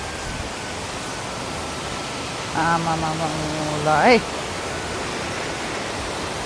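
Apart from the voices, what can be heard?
large mountain stream flowing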